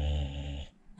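A dog makes a short low grumbling, talking-like vocal rumble, close and soft, ending abruptly before a brief faint sound at the end.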